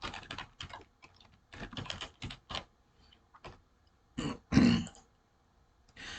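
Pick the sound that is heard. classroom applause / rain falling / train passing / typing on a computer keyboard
typing on a computer keyboard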